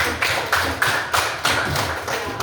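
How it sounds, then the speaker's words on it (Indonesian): A classroom of pupils clapping together in a steady, rhythmic beat, roughly three claps per second, with moderately close, evenly spaced hand impacts and no talk over them. "Oke, kita beri tepuk tangan dulu."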